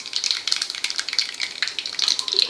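Cumin seeds sizzle in hot oil with mustard seeds in a pan, a bright continuous crackling and hissing, close and steady, with no voices.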